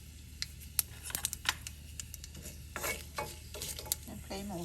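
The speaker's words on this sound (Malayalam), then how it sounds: "കടുകൊക്കെ പൊട്ടി" Mustard seeds and chillies splutter in hot oil in a pan: scattered sharp pops and crackles over a faint steady sizzle, close and fairly quiet, with a few louder clicks and no talk.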